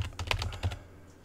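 Quick bursts of typing on a computer keyboard: a short run of close, crisp keystrokes that fades out after about a second.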